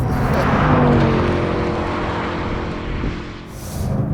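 A Bugatti Chiron Pur Sport's 1500 HP engine roars loudly and steadily while driving, a deep throaty drone that swells and eases slightly, with no voices.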